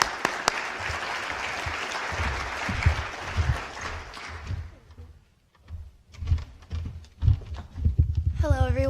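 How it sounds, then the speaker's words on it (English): Applause from the crowd at a university Veterans Day event greets the student senate president, a broad wash of clapping that fades out after a few seconds, followed by scattered thumps, shuffling and brief voices. "Please give her a round of applause for Victoria"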